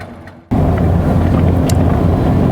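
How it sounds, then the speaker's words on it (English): A boat engine idles at 450 RPM during a Panama Canal transit, a steady low rumble that starts abruptly after a short quieter stretch and holds loud and even with no voices. "So here we are idling at 450 RPMs."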